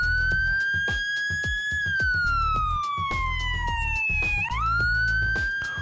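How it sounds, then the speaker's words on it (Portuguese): An emergency vehicle siren plays the Whale tone pattern, a loud, close, long continuous wail that slides slowly down and then sweeps back up, with no talking. "Esse é o som conhecido como Whale."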